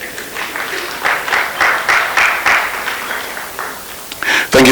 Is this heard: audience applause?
yes